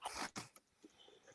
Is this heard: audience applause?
no